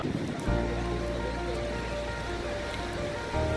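Pacific Ocean surf at Enoshima Beach in Japan on a sunny day with a cool wind, a steady broad wash of waves with low rumble and a faint tonal hum throughout.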